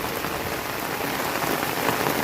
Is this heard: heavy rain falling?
yes